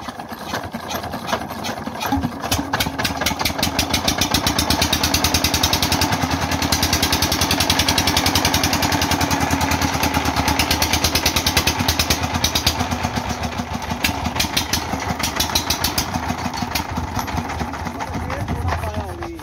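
A faulty Peter diesel engine runs with a loud, close, rapid chugging beat that holds steady throughout and swells slightly in the middle.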